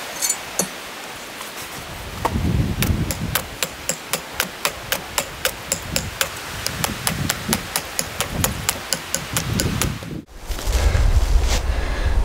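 An axe chopping at a property, a long run of sharp, evenly spaced thuds outdoors under light wind noise, ending with a louder rumble.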